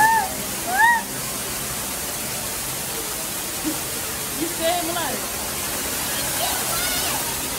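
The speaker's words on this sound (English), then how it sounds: "look at all this water behind us." A waterfall makes a broad, steady roaring wash that fills the whole stretch. Brief bird-like chirps and faint voices break through here and there above it.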